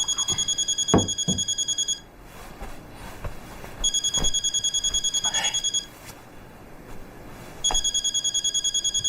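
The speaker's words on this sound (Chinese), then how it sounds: "你老婆又给你打电话了？" A phone rings at night in three bursts of rapid electronic trilling, about two seconds each and separated by short pauses with faint background noise and no speech.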